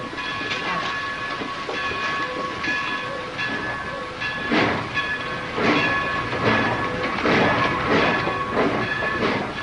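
Train rolling past with a steady rumbling clatter of wheels on rails that swells toward the end, tonal horn-like hum running throughout, alone without voices.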